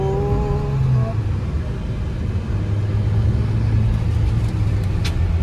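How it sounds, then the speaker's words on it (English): Mahindra XUV300 W8 diesel SUV with automated manual gearbox under a braking test: steady loud engine and road rumble, with a brief low tone easing near the start and a rising hum later. "Now we are going to try the braking test."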